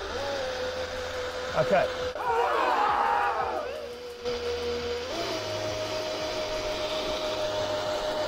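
A DIY electric surfboard motor tethered to a peg and run in a power test, its steady whine surging briefly with a rushing burst, then settling, with a short spoken word.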